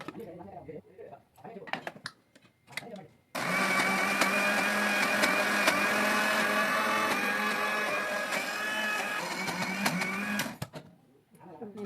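A mixer grinder whirs loudly for several seconds while grinding ginger-garlic paste with oil, a steady motorized roar that starts abruptly after some brief clinks and handling noises, then cuts off near the end.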